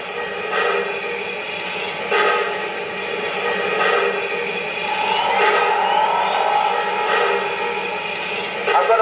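An MTH C&O 4-8-4 Greenbrier model steam locomotive sound system gives a steady, close hiss of steam punctuated by regular chuffing bursts roughly every second and a half, with no talk.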